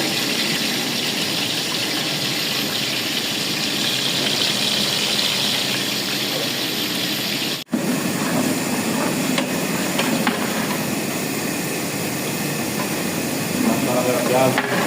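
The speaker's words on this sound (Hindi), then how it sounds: "तेल मेरा गर्म हो गया है। अभी डाल दूंगा मैं प्याज।" Onions are dropped into hot oil and fry with a loud, dense, steady hiss that runs nearly unbroken, with one brief dip partway through.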